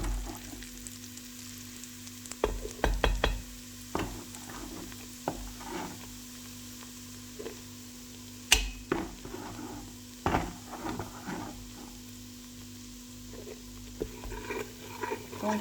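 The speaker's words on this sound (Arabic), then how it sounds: "تسمعوا في التشتيش نتاع الزيت. الزيت يبدا سخون، نحطوا عليه الملوخية." Molokhia dropped into hot oil in a frying pan, a soft steady sizzle with scattered clicks and knocks from the pan and utensils, fairly quiet and close with no talking.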